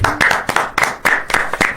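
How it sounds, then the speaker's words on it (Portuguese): Hands clapping in a brisk, even rhythm, seven or so loud, close claps in quick succession with no other sounds between them. "De forma imparcial, bato palmas aqui."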